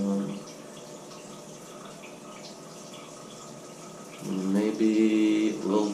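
Shower water runs steadily at a weak flow from low water pressure, then surges louder near the end with a sputtering, gurgling rush.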